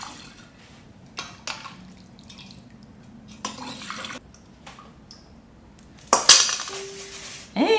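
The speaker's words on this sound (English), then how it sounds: "I'm gonna fill up those jars now with our beautiful broth." Bone broth is ladled into glass mason jars, with soft pouring and trickling and the occasional clink of a ladle against glass. A louder splash and a clatter come near the end.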